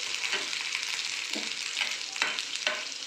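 Garlic-ginger masala with cumin sautéed on a low flame, a continuous close sizzle broken by several scraping stir strokes, no talk.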